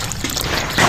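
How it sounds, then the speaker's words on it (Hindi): Water is poured into semolina for Makhandi halwa, a splashy, continuous liquid rush that swells louder toward the end of the brief moment. "और सूजी में पानी शामिल करेंगे।"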